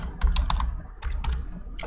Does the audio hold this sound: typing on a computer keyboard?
yes